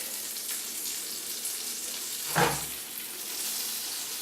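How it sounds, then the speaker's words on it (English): Butter sizzling and crackling in a hot frying pan while an omelette is started, a steady close frying hiss with one brief louder clatter partway through. "It's beginning to sizzle."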